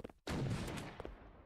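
A video game gun fires a loud, dense burst lasting over a second after a brief quiet gap, the sound fading slowly as it ends.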